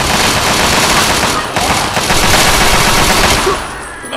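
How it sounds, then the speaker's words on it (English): A Fallout 3 shootout with Chinese assault rifles, rapid sustained automatic fire in a dense, loud, continuous clatter that eases slightly toward the end, with a voice faintly underneath. "It's like a bloody shootout"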